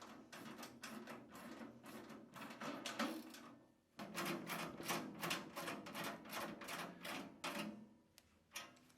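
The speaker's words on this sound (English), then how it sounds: "We'll tighten the 4 bolts up." Socket wrench ratcheting to tighten bolts on a Hyundai HYCH700 wood chipper, two bursts of fast, close clicks separated by a brief pause, fairly quiet.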